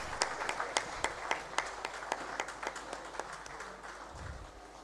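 Sparse, distant applause at a Zenith Bank trade seminar for the bank's chairman returning to his table, a few sharp distinct claps standing out over a soft murmur, tapering off, with a brief low thump near the end.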